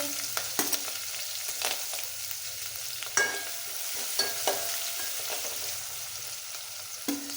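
Steady crackling sizzle of spices in hot oil, with occasional sharp metallic taps of a spoon against the pan.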